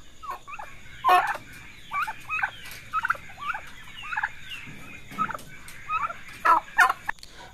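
Narragansett turkeys gobbling in repeated bursts, several birds calling over one another at close range, with short gaps between the rattling calls.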